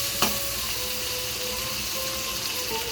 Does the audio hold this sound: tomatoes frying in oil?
yes